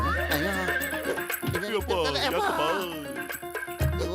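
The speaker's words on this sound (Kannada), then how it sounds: "ಡಾಕ್ಟರ್ ಮುನ್ಸ್ವಾಮಿ, ಈ ಕುದುರೆ ತುಂಬಾ ಉಪಯೋಗ ಬರುತ್ತೆ." A cartoon robot horse neighs in a loud, wavering whinny that rises and falls across several seconds, close and prominent amid animated voices.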